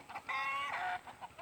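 Large roosters and chickens call close by. One loud, sustained squawking cluck rises out of the barnyard clucking, then gives way to softer short clucks.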